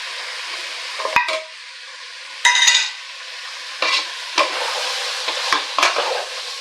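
Chicken pieces with garam masala sautéing in a pan for chicken leg biryani, a steady sizzle broken by several sharp stirring scrapes and clinks of a utensil against the pan, close and fairly loud with no talking.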